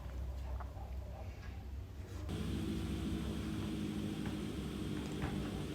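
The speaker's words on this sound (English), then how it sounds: "Here we are taxiing back to the apron." Fixed-wing aircraft taxiing back to the apron at an airport, a steady low engine rumble and broadband hiss that grows louder and fuller about two seconds in, then holds constant.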